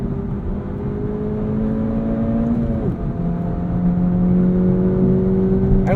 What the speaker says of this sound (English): you downshift and you put your foot down, everything changes